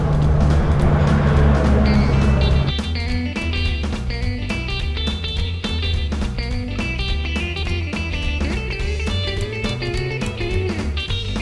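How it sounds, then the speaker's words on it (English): A car rushes past loudly and close on a street in Centro Habana, Cuba, for the first couple of seconds, then gives way to rhythmic music for the rest of the clip. "Ooh, the car is coming."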